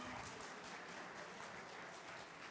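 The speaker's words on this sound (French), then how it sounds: "Et on l'applaudit." Faint, steady audience applause at a cooking competition as a contestant is introduced, a distant continuous patter of many hands.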